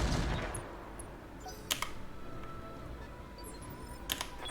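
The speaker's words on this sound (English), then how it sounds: "Firing on target." Weapons fire in the BattleTech mod Roguetech, with two sharp, brief bursts of gunfire standing out over a steady background rumble and no talking.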